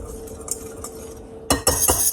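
Salt and yeast mixed into flour in a bowl: quiet scraping at first, then a run of rhythmic, fairly loud stirring strokes with clinks of a utensil against the bowl, close up with no talk.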